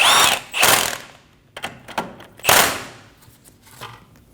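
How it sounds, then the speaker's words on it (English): A 19mm socket snugging down an outer tie rod nut on a 2012-2022 Volkswagen Passat, heard as a few loud, close bursts of tool noise with shorter ratcheting clicks in between, under no talk. "Using a 19mm socket, we're going to snug down the outer tie rod nut."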